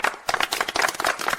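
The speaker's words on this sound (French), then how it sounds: "Applaudissons-le." Audience applause, a brief patter of clapping hands at moderate volume, somewhat sparse and uneven.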